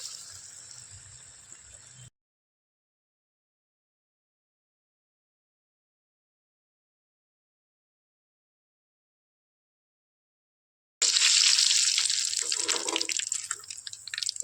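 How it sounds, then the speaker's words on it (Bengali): Drumstick flower pakoras dipped in besan batter fry in hot oil with a steady, loud hissing sizzle, in two stretches separated by a long silence. "কাকু এইভাবে বেসনের মধ্যে ডুবিয়ে তেলের মধ্যে ছেড়ে দিচ্ছে"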